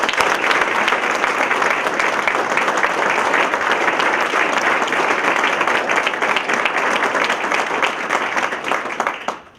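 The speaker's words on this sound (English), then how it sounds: "Give him a round of applause." Loud, sustained applause from the audience at a Kennesaw State press conference announcing a partnership with a plumbing company, a dense continuous roar of clapping lasting nearly ten seconds before quickly dying away.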